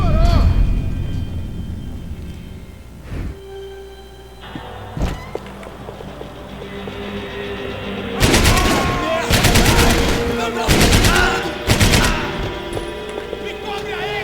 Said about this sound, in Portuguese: Os caras estão me atirando